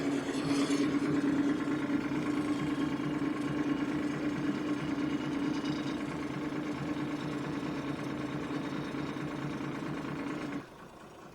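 An Allis-Chalmers D17 diesel tractor engine runs steadily at a close, loud idle with a rough, knocking beat, then drops suddenly to a quieter level near the end.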